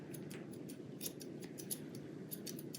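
Scissors snip the hair in front of a dog's foot pad during grooming of a stylized leg, a quick series of small, crisp close-up cuts over a steady low background hum.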